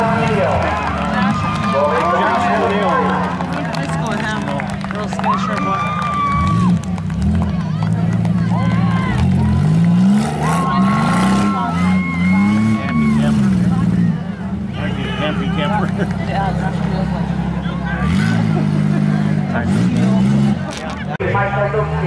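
Vehicles racing through a mud bog, with engines revving and whining in rising and falling surges over a busy crowd, while a voice talks over a loudspeaker throughout.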